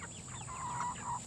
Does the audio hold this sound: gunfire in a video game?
no